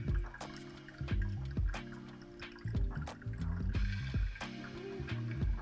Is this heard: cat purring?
no